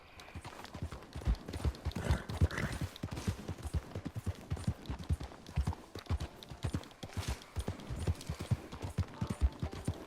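Horse hooves clip-clop steadily in Red Dead Redemption 2, a quick, even rhythm of close, crisp hoofbeats running without pause and with no talk over them.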